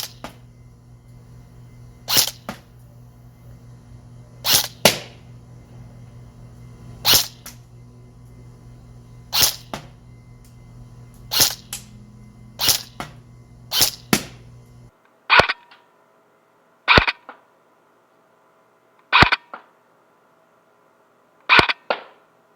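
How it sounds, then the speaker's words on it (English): Airsoft gun fitted with a tactical scope fires single shots at targets about 45 to 50 feet away, giving eleven sharp snapping cracks at irregular intervals, first over a steady low hum, then in near silence. "Now I'm shooting the targets at a different angle, and I'm about 45 to 50 feet away."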